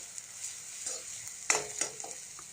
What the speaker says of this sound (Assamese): আৰু এতিয়া ভালকৈ ভাজি ল'ম যাতে চয়া চচখিনি কেঁচা গুণটো নাইকিয়া হৈ যায়।